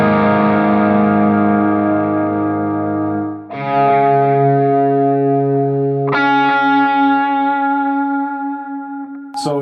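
Electric guitar chords ring out through a Source Audio Ventris pedal set to a modulated, Memory Man style delay with high rate, three struck chords each decaying into warbling, chorus-like repeats.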